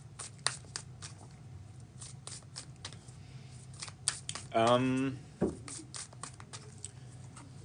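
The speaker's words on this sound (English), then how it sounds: "this deck in particular, the Secret Oracle, is super difficult to shuffle, bridge shuffle wise anyways" A stiff Secret Oracle card deck is bridge shuffled once: a brief fluttering riffle of cards rattles close by, set among soft handling taps and someone talking.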